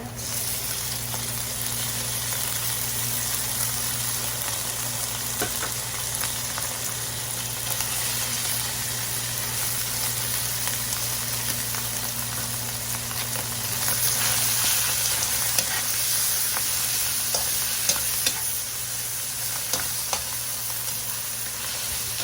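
Tuna being sautéed with garlic in a pan for tuna Bicol express: a steady, continuous sizzle and frying hiss runs throughout, with occasional light stirring clicks and a low hum in the background.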